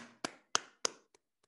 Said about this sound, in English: Let's everybody give him a round of applause